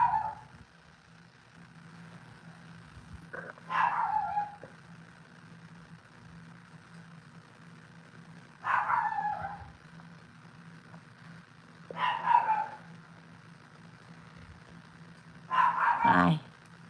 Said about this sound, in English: he is beside himself with barking at people